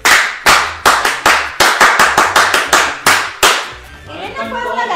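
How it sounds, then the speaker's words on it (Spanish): Claps for Reina from a small group at a home-buying seminar, a run of about a dozen sharp, loud, separate claps in an uneven rhythm, close by, ending as a murmur of voices rises. "un aplauso para Reina."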